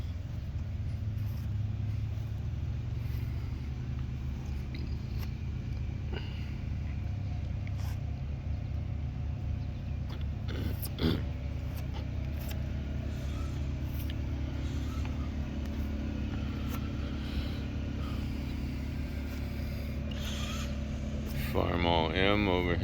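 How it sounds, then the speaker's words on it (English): A couple of John Deere diesel tractors run at a farm tractor show, giving a steady low rumble throughout with voices in the background. "couple of John Deere diesels."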